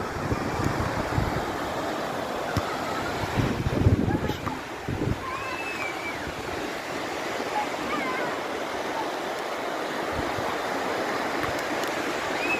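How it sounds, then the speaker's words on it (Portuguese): Calm sea waves washing on a shore in Ecuador, a steady broadband surf wash with wind buffeting the microphone throughout and faint chirping over the top. "Mar tranquilo"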